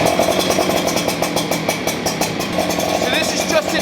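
A motorcycle engine idles steadily at close range, a continuous mid-pitched rumble with regular pulsing throughout, recorded near the bike during a noise-canceling microphone test.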